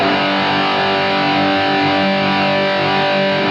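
A sustained, heavily overdriven electric guitar chord rings out with delay and reverb, holding steady and loud before cutting off abruptly at the end.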